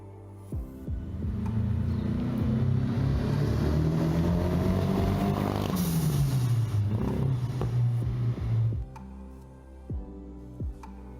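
A domestically produced Brazilian sports car engine idles with a low throbbing hum, then revs up with rising and falling pitch sweeps before settling back, loud and close with no talking.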